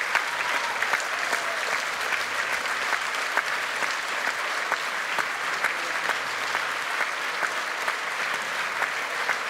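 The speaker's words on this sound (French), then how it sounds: "Une standing ovation, les gens se lèvent." A theatre audience in an Italian-style auditorium gives a standing ovation, with dense, steady applause from many hands filling the hall for the whole stretch, evenly loud with no talk above it.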